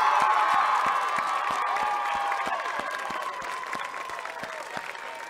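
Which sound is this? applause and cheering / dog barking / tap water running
applause and cheering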